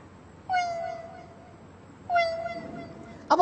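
A man mimics a cat meowing as it sits beside women cutting fish: two drawn-out, plaintive meows, each falling slightly in pitch, separated by a pause and ending with a brief clattering noise.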